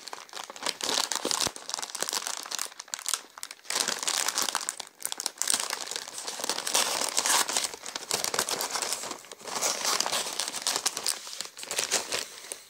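A bag of ATB Svoya Liniya wasabi potato chips is opened with loud, close crinkling and rustling of the packaging in bursts for several seconds, with brief tearing sounds and no talking.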